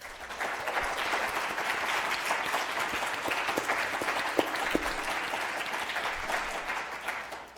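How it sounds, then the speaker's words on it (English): Audience applause for a panel's presenters and moderator at an evening event, a steady wash of many hands clapping at moderate distance, sustained throughout with a few sharper claps standing out. "let's give all our presenters and our moderator another round of applause"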